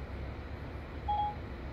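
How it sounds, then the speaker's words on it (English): A single short electronic dialing beep sounds from the car's phone system on a 2017-2019 Infiniti QX60, clear over a low steady cabin hum. "And it'll ring the person who you're trying to call."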